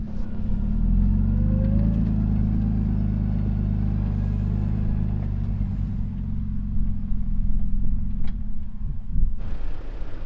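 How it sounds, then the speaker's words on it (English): A truck stuck in deep snow while camping churns out a loud, close, low engine rumble that holds steady and then surges and wavers as the revs rise and fall, with no talk. "Looks like Nate is unstuck and he's gonna try to turn his truck around."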